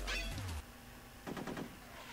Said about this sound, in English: I just dodged those bullets Matrix style